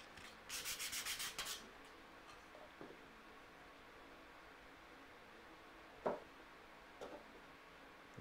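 Hand sanding of a wooden edge with a piece of sandpaper during dovetail woodworking: a quick burst of rapid, rhythmic rubbing strokes, then quiet with a few faint taps and knocks.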